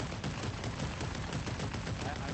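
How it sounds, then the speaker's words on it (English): Rapid gunfire from a video game firearm, a dense, continuous spray of shots with no gaps, moderately loud and even throughout, with no voice over it. "If you just shoot it, it goes all over the place."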